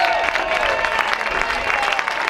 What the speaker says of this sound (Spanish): Un aplauso para eles.